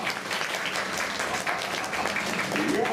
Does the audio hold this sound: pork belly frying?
no